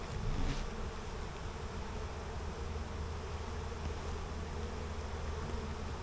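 Honey bees hum inside a crowded nucleus hive filled with burr comb, a faint, even drone that holds steady without pause, alone with no voices.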